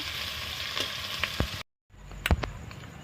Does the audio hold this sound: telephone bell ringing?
no